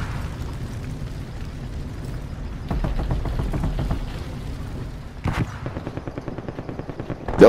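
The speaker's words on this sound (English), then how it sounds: "Aw, that's a fucking sentry gun." Automated sentry gun in an online first-person shooter firing rapid bursts of gunfire, one run of shots around the middle and a denser, louder volley near the end, over a steady low game rumble.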